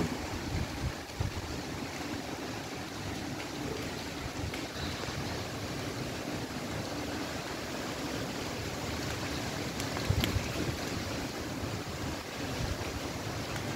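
Rain beginning to fall outdoors in Torreón, Coahuila, during a dark windstorm, a steady broad wash of water and wind with no voices.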